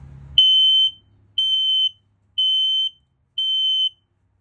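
A smoke detector in a 2022 Forest River No Boundaries 19.5 travel trailer sounds four loud, high-pitched electronic test beeps, each about half a second long and evenly spaced, after a brief low rumble at the start.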